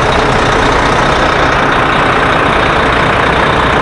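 A 2016 Volvo 9700 highway coach with a Volvo 12.8-liter diesel engine running steadily, a loud, even, continuous rumble heard close up with no other sound.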